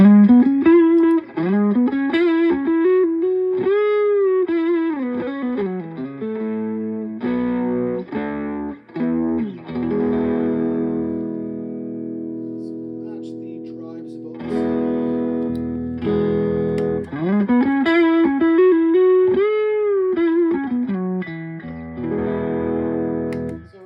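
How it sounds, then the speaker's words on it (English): Electric guitar through a Boss Super Overdrive pedal, with a gritty overdriven tone, plays sustained bends and chords, loud and alone, with held notes ringing out between phrases. "So this is the Boss Super Overdrive."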